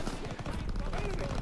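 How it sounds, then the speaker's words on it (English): Bursts of rapid gunfire crackle amid a busy, noisy mix, with voices shouting faintly underneath, in the PC game Call of Duty: WWII. "Gunfire this way!"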